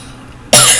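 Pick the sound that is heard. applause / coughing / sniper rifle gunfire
coughing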